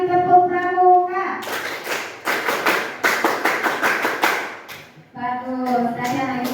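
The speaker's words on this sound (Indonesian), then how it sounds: "Coba sekarang satu kali tepuk pramuka." An Indonesian school class performs a scout clap (tepuk pramuka) in unison, a quick run of sharp rhythmic claps and thumps from many children. Teacher speech comes before and after it.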